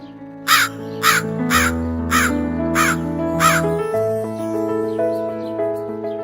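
A crow caws six times in a steady sequence, loud and close, over a sustained musical background with no talking.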